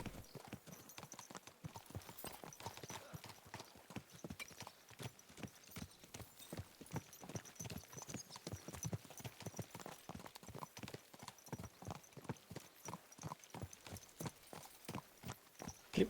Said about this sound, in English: Clip clop, clip clop, clip clop.